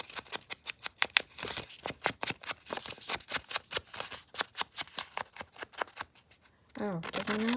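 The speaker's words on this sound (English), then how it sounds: "Just does not want to rip straight" Wallpaper being torn by hand for a grungy wallpaper journal, a long run of sharp, close ripping and crackling bursts in an irregular rhythm, with a brief spoken remark near the end.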